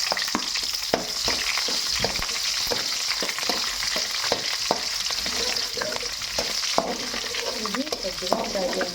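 Onions frying in a pan with steady sizzling throughout, broken by frequent sharp scrapes and clicks of stirring, close and constant, with no voices.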